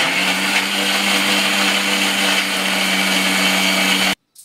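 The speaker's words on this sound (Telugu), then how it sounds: "ఈ మిశ్రమం స్మూత్గా అయ్యే వరకు మనం మిక్సీ పట్టుకోవాలి." A kitchen mixer grinder whirs steadily at high speed, blending red banana and walnuts into a smoothie, loud and continuous before cutting off abruptly near the end.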